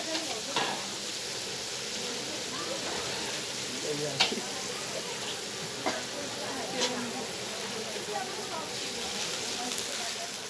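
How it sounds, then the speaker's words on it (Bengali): Steady sizzle of onion and garlic frying, with occasional stirring clinks and scrapes, a soft continuous hiss throughout. "এবার পেঁয়াজ রসুন ভাজা হচ্ছে।"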